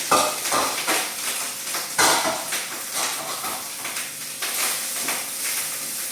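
Cooked rice being stirred in a hot pan for Filipino sinangag fried rice with spring onion and egg, utensils scraping and clinking in an irregular rhythm over a soft sizzle, close and clear with no talking.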